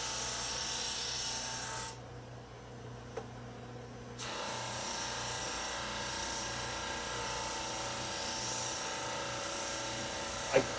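A drum sander smooths thin wood strips for a Shaker box, a steady broad rushing hum with a brief quieter dip partway through and a faint tick near the end, no talking.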